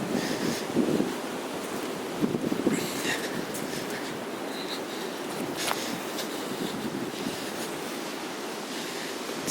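Water flowing and rushing at a stream restoration site on Mill Run, cutting back in behind an erosion-control mat near the bank toe; a steady broadband wash with wind buffeting the microphone, fairly close and continuous.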